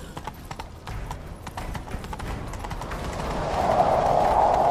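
Rapid clip-clop of horse hooves galloping in the video game The Witcher 3: Wild Hunt, steady and fairly close, with a brief whinny-like rise near the end over a busy background.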